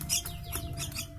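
A hill myna calls in short, bright chirps and whistled notes, fairly close, over a steady low hum.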